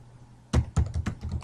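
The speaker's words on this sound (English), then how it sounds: "You're going to hit activate, and you're going to type in 4101" Keys on a computer keyboard, a quick burst of about five close, crisp taps after a brief quiet moment.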